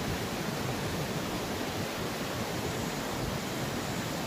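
Distant waterfall on a flooded river: a dense, steady broadband roar of rushing water, constant and even with no breaks or other sounds.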